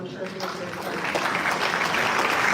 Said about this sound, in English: Let us give His Holiness a round of applause.